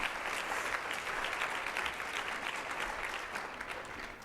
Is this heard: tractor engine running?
no